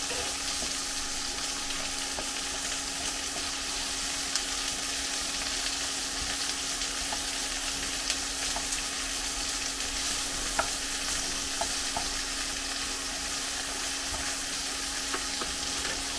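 Raw prawns frying in a pan for chow mein, a steady even sizzle and hiss with a few faint ticks and pops, continuous and close, no voices.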